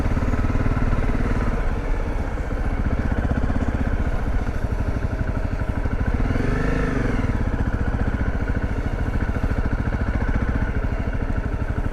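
Dirt bike ridden on the way to a Walmart, its single engine chugging steadily and loud up close, with a brief rev swelling mid-ride over constant wind rush.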